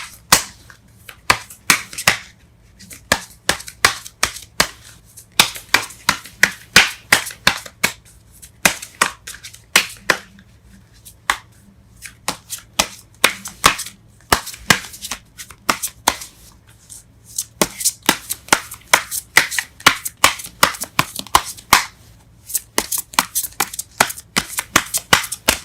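Tarot cards being shuffled and drawn: rapid bursts of crisp riffling snaps in uneven clusters with short pauses between, close and loud throughout.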